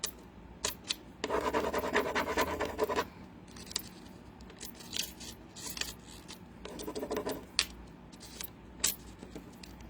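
Metallic foil transfer being rubbed down by hand, giving bursts of close, dry scratching and rasping friction in two longer stretches, with scattered light taps and rustles in between and no talking.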